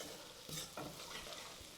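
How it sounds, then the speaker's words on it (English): Steady, crackling sizzle of spices, including cardamom seeds, frying in a hot pan for curry, with a brief stirring scrape partway through; continuous and close, with no voices. "Now you've got the sizzle."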